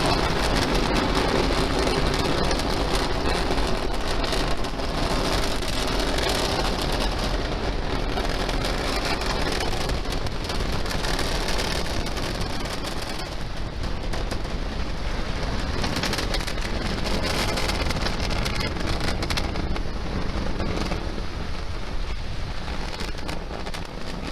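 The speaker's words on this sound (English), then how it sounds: "We're powering down the Merlin engines to relieve the acceleration as we get ready for the period of maximum dynamic pressure." SpaceX Falcon 9 Merlin engines roar steadily during the climb after liftoff on a GPS III launch, a dense, continuous broadband rumble holding loud throughout with no voices.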